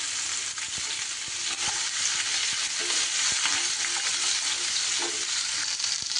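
Cut pointed gourd frying in leftover fish-frying oil, a steady close sizzle with intermittent spatter pops and occasional stirring clicks, no voices.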